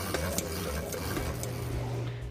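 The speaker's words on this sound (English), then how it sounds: "Now it's getting to where it cranks pretty easily again." Antique hand-cranked butter churn working Nigerian Dwarf goat cream as it comes to butter, giving a steady, continuous mechanical rumble and whir with faint knocks, close by and without speech.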